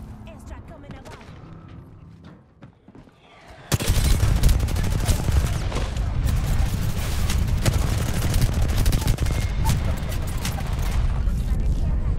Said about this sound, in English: Airstrike coming above.